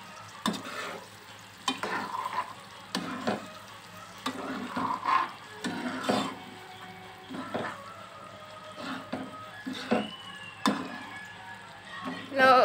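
Brinjal curry with curd and coriander being slowly stirred in a pan, soft repeated scraping and squishing strokes with a light sizzle underneath, close by and steady.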